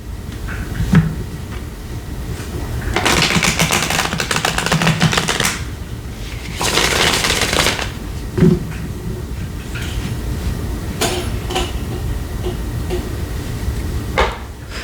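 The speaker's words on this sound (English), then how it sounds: "I'm going to shuffle one more time." Tarot cards shuffled by hand in bursts of papery riffling, two longer loud runs followed by a few short flicks, close and with no talk.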